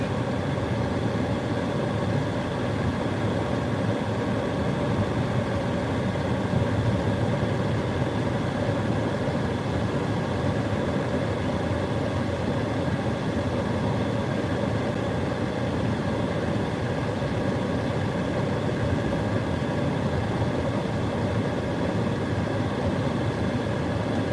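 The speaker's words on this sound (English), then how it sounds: "I can't sit with the car just idling because the car overheat." A car prone to overheating runs with a steady low engine drone as it circles the block, a continuous mid-level hum with faint tonal whine, unbroken and without voices.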